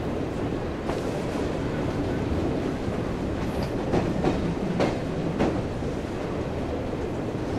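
A steam train in Assassin's Creed Syndicate rumbles along with steady clattering wheels and a continuous roar, with faint rhythmic clicks and no clear speech.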